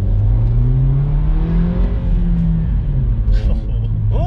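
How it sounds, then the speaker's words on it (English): A car engine heard from inside the cabin rumbles under steady driving, and its pitch sags and resettles as the driver shifts gear with a clutch, with people talking over it. "Oh, that was a nice gear change."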